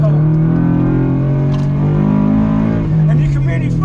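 A Subaru BRZ's engine pulls hard while it is driven on track, its loud, steady tone rising in pitch and then settling. Someone talks over it throughout.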